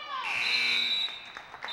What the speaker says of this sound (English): And the buzzer sounds.